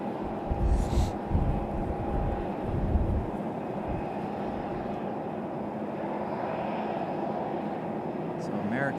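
A Boeing 737 airliner taxis at Raleigh-Durham airport, its engines giving a steady, moderately distant roar with a low rumble that swells slightly early on and then holds even.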